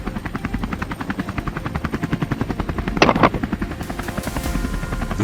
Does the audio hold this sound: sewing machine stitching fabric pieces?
no